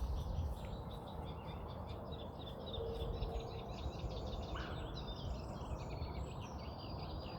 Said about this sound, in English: I hear the birds, I hear the wind, I hear the rustle in the grasses